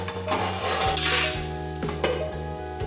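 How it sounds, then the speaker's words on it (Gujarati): A metal lid clanks down onto a pot of okra and potato curry, giving a few close metallic clinks and a ringing rattle, with no talking. "હવે આપણે ગેસ છે તે થોડો ધીમો રાખી અને ઢાંકી દઈશું."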